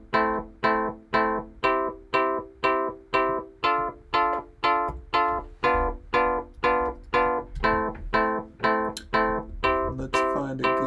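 A steady, evenly paced sequence of plucked or keyboard chords, each struck crisply and decaying quickly, repeating in a regular rhythm with no voices.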